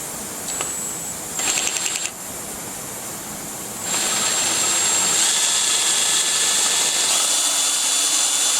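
Power drill boring at an angle into a cast iron 400 engine block, with short bursts of whirring at first, then a sustained high-pitched grinding drill run, close and loud, with no talking.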